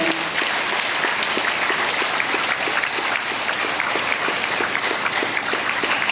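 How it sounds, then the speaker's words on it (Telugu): A seated audience at a meditation gathering claps steadily and loudly in a dense, even wave of applause as a guest is welcomed onto the stage, sustained throughout without a pause. "స్టేజ్ మీదకి చప్పట్లతోటి ఆహ్వానించుకుందాం"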